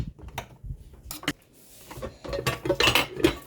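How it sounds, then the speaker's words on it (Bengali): Pots and pans being washed in a home kitchen: irregular metal clatter, clinks and scraping, close and fairly loud throughout. "একটু আলি হাড়ি পাতিলে সেগুলো সব ধুইতেছি"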